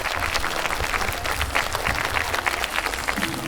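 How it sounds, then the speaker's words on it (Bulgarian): A concert audience at a folk and sport dance club performance in Nesebar applauds with dense, sustained clapping that stays loud and even throughout, sounding close and full with crowd noise mixed in. "Още веднъж аплодисменти!"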